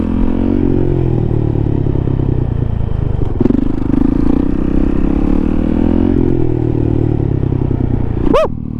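A 450 dirt bike held in a one-handed wheelie, its engine droning loud and steady close by with occasional clatter, then a sharp rising whine near the end.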